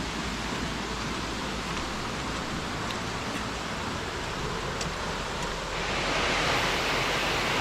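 Saeng Chan waterfall roars as a constant, dense hiss of falling water heard from above the falls, swelling a little louder near the end.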